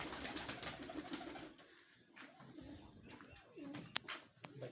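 Pigeons cooing at a home loft where some birds sit on eggs, soft repeated low coos spread through the clip amid general bird chatter, fairly faint and without any speech.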